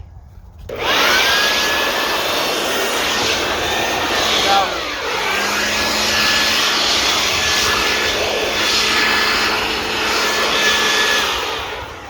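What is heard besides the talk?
electric air blower running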